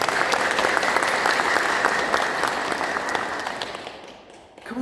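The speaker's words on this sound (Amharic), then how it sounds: "እስቲ በእጆቻችሁ አጨብጭቡበት" Hands clap together across a church congregation, a thick continuous burst of applause that holds steady and then fades toward the end, with faint voices underneath.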